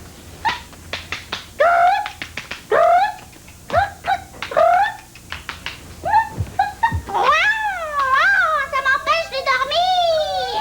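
Rising and falling high-pitched cries, like an animal mewling or whimpering, come in short bursts and then longer wavering calls, close and fairly loud.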